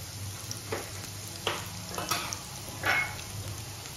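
Garlic being lightly sautéed in a pan for vegetable jalfrezi, giving a quiet, steady sizzle broken by a few soft spoon scrapes and clinks, with no talking.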